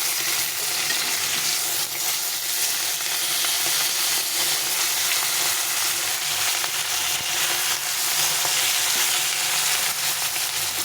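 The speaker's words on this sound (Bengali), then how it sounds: "মাছগুলো একপাশে ভাজা হয়ে গেছে এখন উল্টে দেবো" Fish pieces sizzle steadily in hot oil in a pan, being turned after one side has browned, with a dense, continuous frying crackle throughout and no talking.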